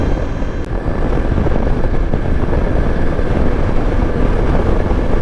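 Yezdi Adventure motorcycle on a highway ride, its engine a steady, smooth drone heavily buried under roaring wind noise, loud and continuous throughout with no speech.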